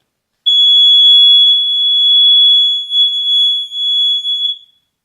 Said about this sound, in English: That's the fire. That's the smoke alarm.